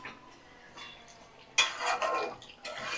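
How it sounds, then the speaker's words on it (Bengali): Mutton pieces are stirred and sautéed in a pot with spices, a spoon scraping and clinking against metal amid soft sizzling, close, in short bursts with quieter pauses between. "ভালো করে মাংসটা কষিয়ে নিচ্ছি দেখো মাটন থেকে তেল ছেড়ে গেছে"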